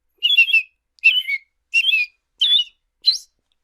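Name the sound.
human imitating American robin song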